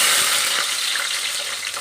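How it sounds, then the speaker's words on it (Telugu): Chopped green chilies hit hot oil in a pan while cooking okra curry, giving a bright, steady hiss and crackle of frying that fades slightly over a couple of seconds, close and without speech. "ఆయిల్ అయితే వేడయింది. ఇప్పుడు మనం కట్ చేసి పెట్టుకున్న పచ్చిమిరపకాయలు వేసుకుందాం."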